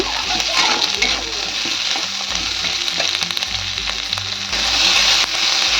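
Ginger and spices sizzle and crackle steadily in a hot pan alongside onion and garlic for a chicken chaap masala, a dense continuous frying hiss with occasional stirring, close and fairly loud, no talk.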